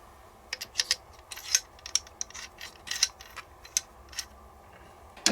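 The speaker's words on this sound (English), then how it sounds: "now we're going to put our bolt and bolt carrier back into place." Metal clicks and clacks from the bolt and bolt carrier of a Chinese Arsenal 66 AK-47 being handled, a dozen or so sharp separate mechanical clicks at an uneven pace, close up and fairly quiet, with no talking.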